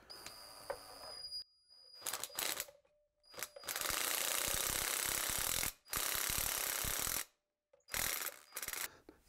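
An impact wrench fires in loud, rattling mechanical bursts, a short one first, then two long sustained runs and a final burst, with brief silent gaps between them.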